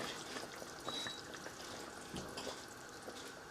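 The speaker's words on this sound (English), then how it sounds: "Now I'm gonna add on the hot water so I can do the slow cook" Hot water poured into a pot of braised pork belly, a soft, steady splash and gurgle with faint sizzle, fairly quiet and unbroken.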